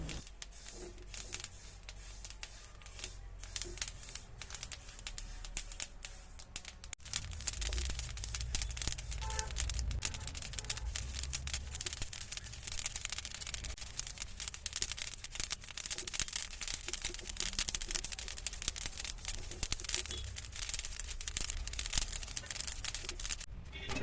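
Sesame seeds dry-roasting in a pan give a dense, steady crackle of tiny pops and rustles, close and fairly quiet, growing busier after the first few seconds and continuing throughout.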